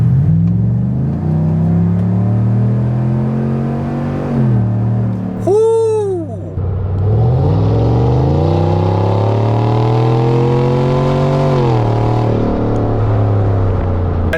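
A Chevrolet Silverado ZR2 with a 6.2 V8 and aftermarket exhaust pulls hard at full throttle, its loud droning rumble rising through the gears with a brief shift dip and a squeal partway through.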